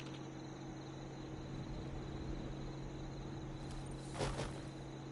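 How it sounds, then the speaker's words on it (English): Bees buzz at an apiary in the Fallout 76 video game, a faint, steady insect drone with a constant hum throughout and a brief louder rustle near the end. "What is that, bees?"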